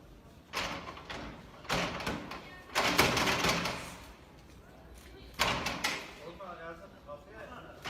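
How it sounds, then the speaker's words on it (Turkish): People try to force open a door with several heavy, irregular bangs and thuds a second or more apart, loud and close, with voices sounding around the blows. "Gelin bu kapıyı kıralım."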